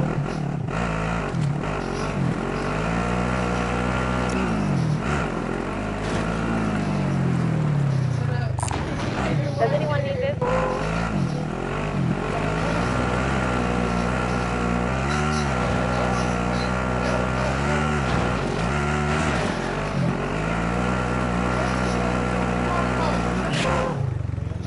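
In-game vehicle engine from Call of Duty plunder mode, a steady motor hum that rises and falls as it accelerates and shifts, heard under frequent player voice chat.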